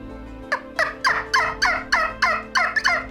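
A turkey call made with a brass mouthpiece is blown by mouth, giving a bright, clear series of about eight loud gobbling yelps in a steady rhythm over a faint hum.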